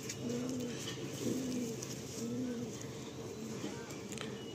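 Madrasi, Andhra and Malwai breed pigeons coo in several low, rolling phrases, close and steady, over a constant background hum.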